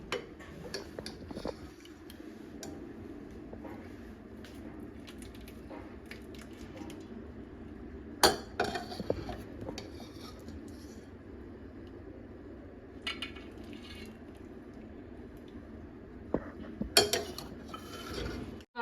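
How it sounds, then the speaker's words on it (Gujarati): Dal dhokli served onto a plate in a home kitchen, with scattered light clinks and taps of a spoon and dishes over a faint background hum. "તો હવે આપણે ઢોકળી પ્લેટમાં સર્વ કરી દઈએ"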